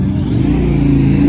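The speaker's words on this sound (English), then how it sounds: "there's still lorries coming in" Heavy lorries pulling into a motorway services car park, a continuous loud low engine rumble and drone with steady revving, close by and without voices.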